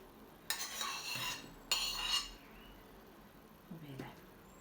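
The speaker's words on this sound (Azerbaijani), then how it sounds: "Birinci pomidorumuzu tökək." Chopped tomatoes tumble into a bowl for a sour cherry and sesame salad, two soft rattling pours close up, followed by a faint clink.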